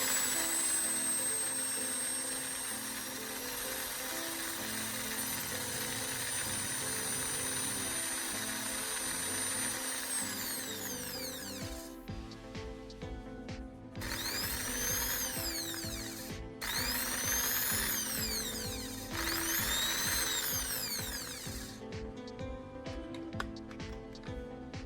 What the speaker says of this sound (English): I'm securing the carbon rod into my drill. This allows me precisely shape and sharpen its tip